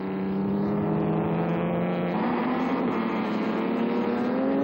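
A vintage ERA racing car accelerates hard, its engine note loud and sustained, climbing steadily in pitch with a brief shift in tone partway through and no talk over it.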